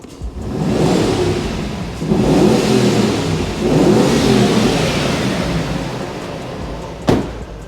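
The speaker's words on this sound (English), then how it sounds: "we removed the OE setup and applied a beautiful exhaust system on the side" A Hummer H2 with a new cat-back exhaust system revs in three rising surges, a deep loud rumble that swells and falls, ending with a sharp clunk near the close.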